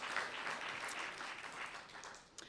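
An awards reception audience gives a short, faint burst of applause, a soft steady patter of many hands clapping at a distance that tapers off over a couple of seconds.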